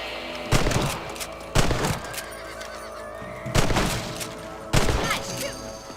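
Four sharp gunshots crack out at uneven intervals in Red Dead Redemption while rabbits are hunted outdoors. Each shot is loud and close, followed by a short decay, with a horse faintly audible between shots.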